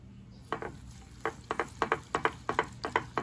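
Four eggs with pepper and salt being beaten in a bowl, a run of about a dozen quick, crisp clicking strokes of utensil against the dish, close and clear with no talk.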